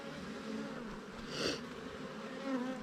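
Honeybees buzz steadily and close up during a beehive inspection, a dense continuous drone that swells briefly at moments, with no talking.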